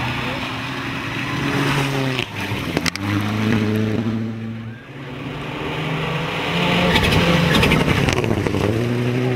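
Mitsubishi Lancer Evo X rally car in Open class specification at the Olympus Rally 2009, engine revving hard with rising and falling tones through gear changes, loud and close, with a dip as it backs off before accelerating again.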